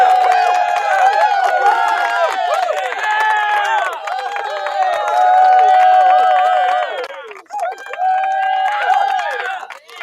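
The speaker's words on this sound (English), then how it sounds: "we're gonna give the family a round of applause that's tuning in tonight" A live audience cheers and shouts in a loud, continuous crowd roar lasting several seconds, with overlapping voices rising and falling and only faint clapping underneath, briefly dipping near the end.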